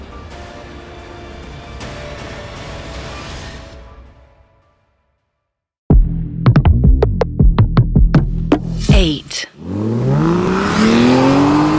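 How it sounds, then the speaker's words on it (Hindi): A car speeds along a highway, its engine roaring loudly with rising revs and whooshing passes after a brief silence, with a steady rushing drone at the start. "हाईवे पर अर्नव अपनी गाड़ी तेज रफ्तार में चला रहा था।"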